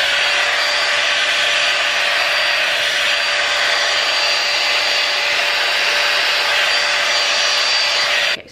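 A Dyson Airwrap dupe hair styler runs on its second power setting, blowing a steady, loud, even whoosh of air with a faint whine, continuous and close for several seconds before cutting off abruptly at the end.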